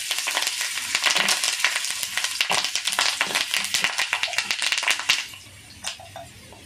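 Asafoetida and curry leaves hit hot oil in a tempering for ivy gourd chutney, giving a dense burst of crackling and spitting that sizzles loudly for several seconds, then thins out to a few scattered pops.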